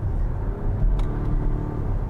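A 2022 Volvo XC60 Recharge plug-in hybrid luxury SUV under way puts out a steady low road and engine rumble with a smooth whir, constant and fairly loud throughout.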